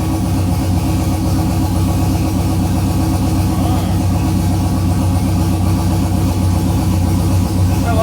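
A Ford truck engine with a big turbo idles, a loud steady low rumble with a fast regular pulse that holds for the whole stretch, close by and alone.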